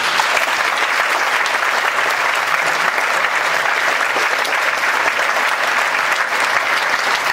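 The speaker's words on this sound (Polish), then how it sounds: "Brawa dla nich!" Sustained, steady applause from a conference audience at a national business event, dense and loud throughout with no pauses, a large crowd clapping continuously.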